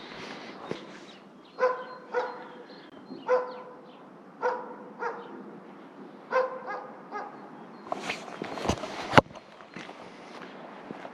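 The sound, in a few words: dog barking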